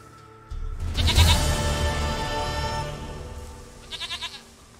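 A goat in the video game The Witcher 3 gives a loud, wavering bleat close by over a low background hum, then a short burst of quieter bleats near the end.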